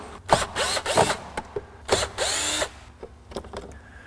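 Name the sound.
power tool removing screws from blower motor assembly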